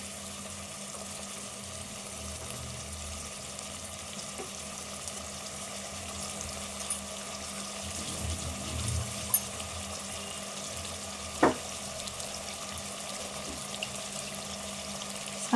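Goat trotters frying in oil in a pan for a Telangana-style curry, a steady soft sizzle running throughout with a few brief clinks, fairly quiet and close.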